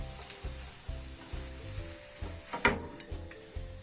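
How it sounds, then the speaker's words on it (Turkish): Bread pieces frying in olive oil while being stirred, a steady close sizzle over a regular low thumping beat, with a brief clatter of the spoon against the pan. "Yağımızda bir miktar ekmeklerimizin hepsinin güzelce zeytinyağına bulaşması için güzelce karıştırıyoruz"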